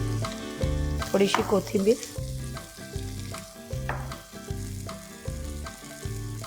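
Onion frying in hot oil for dabeli, a close, bursting sizzle with stirring clatter that rises and settles in waves, while a voice speaks briefly over it.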